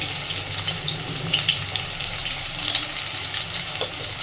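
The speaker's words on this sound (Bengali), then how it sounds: "আলুগুলো এবার খুব সুন্দর করে লাল লাল করে ভেজে নেব" Potatoes fry in hot oil in a pan with salt, making a loud, steady, close sizzle and hiss that runs without a break.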